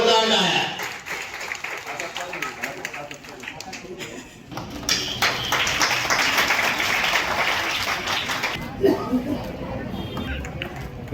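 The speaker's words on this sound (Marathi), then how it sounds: "जोरदार टाळ्या." A crowd of students and guests claps at a school admission celebration, with dense, sustained applause that rises and holds while a voice speaks over parts of it.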